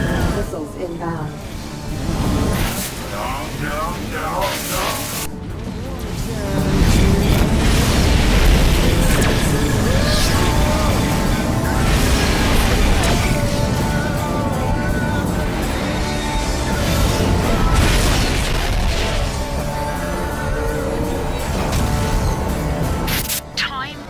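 Incoming missiles explode around a spaceship in Rebel Galaxy. Loud booms and bursts sit over a dense, continuous roar of engine rumble and combat noise, with a synthetic voice speaking partway through.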